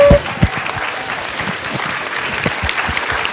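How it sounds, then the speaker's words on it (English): Audience at a university occupational therapy poster and pinning ceremony gives a round of applause, a dense steady wash of many hands clapping that opens with a few louder claps and continues evenly throughout. "give a round of applause for the last 3 groups"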